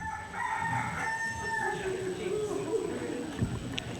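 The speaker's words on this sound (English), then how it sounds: "That's a rooster." A rooster crows in a long, rising and falling call over a busy room with background chatter.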